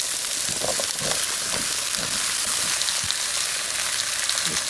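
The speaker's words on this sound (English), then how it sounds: "I'm gonna add a little bit of oil in here because I'm gonna do the zucchini right in here." Zucchini frying in oil in a pan gives off a loud, steady, close sizzle that holds evenly throughout, with faint crackles underneath.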